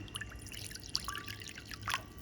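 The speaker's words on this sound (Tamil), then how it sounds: "அதனால நான் சுடு தண்ணி ஊற்றிக்கிறேன்." Hot water is poured into a cooking pot, a brief trickling splash with scattered drips, fairly quiet and close.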